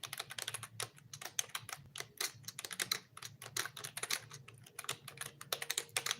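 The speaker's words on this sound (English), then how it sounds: "I'm typing it in now" Rapid clicking on a computer keyboard, dense irregular keystrokes close by with a low background hum underneath and no talking.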